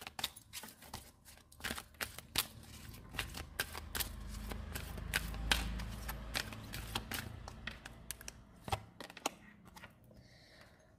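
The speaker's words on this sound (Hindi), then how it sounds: "अगर आप कार्ड शफलिंग नहीं देखना चाहते हैं तो आप स्किप कर सकते हैं" Tarot cards shuffled by hand, a run of crisp riffling flicks and slaps at irregular pace, close and fairly quiet, with no talking over it.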